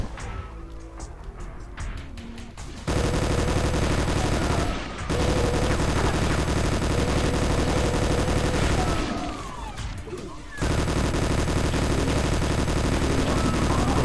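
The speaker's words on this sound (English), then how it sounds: "little recoil effect from the chain gun, or the machine gun actually" Chain gun or machine gun firing in the Doom mod Winter's Fury, a video game, as loud continuous automatic bursts that fill most of the stretch, with two short pauses between volleys.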